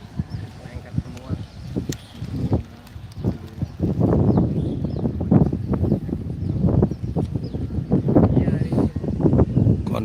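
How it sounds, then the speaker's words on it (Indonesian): Strong sea wind gusts against the microphone at an outdoor slingshot competition, rumbling and buffeting in uneven waves that build louder midway, while people talk nearby. "Kondisi angin masih berhembus kenceng ya."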